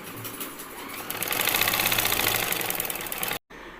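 A sewing machine runs steadily while topstitching the belt of a shalwar, a close mechanical whirr with rapid needle ticking that stops abruptly near the end.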